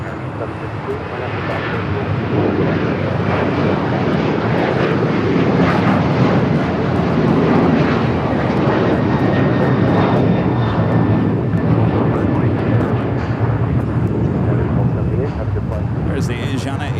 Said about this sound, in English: Next takeoff is a flight heading to Cancun, Mexico. United Airlines Flight 1278, a 737-900ER.